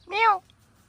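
A single clear meow from a black cat, short and close, rising then falling, followed by quiet.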